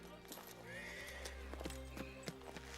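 A horse in a medieval war film neighs in a long whinny while hooves clip-clop in scattered beats, set against a low rumbling background, with voices speaking over the scene.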